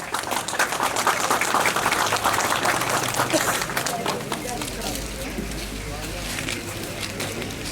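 A crowd applauds at a formal association event in İpsala, Turkey, with a dense, steady burst of clapping that thins and softens after a few seconds, leaving a low background rumble.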